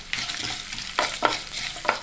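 Coconut pieces frying in coconut oil for a mushroom roast, a steady close sizzle broken by the scrape and clack of a stirring utensil.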